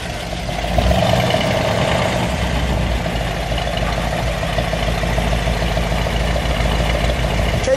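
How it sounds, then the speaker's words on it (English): Steady, loud idle of a 1956 Mercury Montclair convertible's V8 exhaust, a continuous low rumble throughout with no talking. "And listen to that exhaust."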